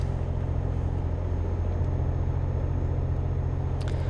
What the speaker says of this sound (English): This truck is just so quiet